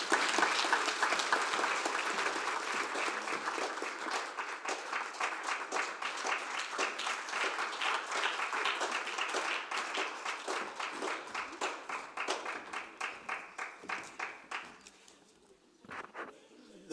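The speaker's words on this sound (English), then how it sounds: "A round of applause, please." Applause for a speaker at a conference, sustained and fairly loud from the start, thinning out toward the end with a few scattered claps after it fades.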